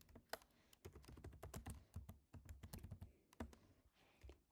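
Close, quiet typing on a computer keyboard in irregular rapid bursts of key clicks, with short pauses, while entering a file path during Next.js project setup.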